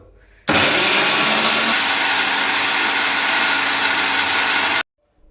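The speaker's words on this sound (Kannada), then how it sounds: "ಮಿಕ್ಸಿಗೆ ಹಾಕೋದು. ಈಗ ಸ್ವಿಚ್ ಆನ್ ಮಾಡಿದ್ರೆ ಒಳ್ಳೆ ಸಾಂಗು" A kitchen mixer grinder grinding chilli masala for pulao, switching on abruptly with a loud, steady whirring drone that holds for about four seconds, then cuts off sharply into silence.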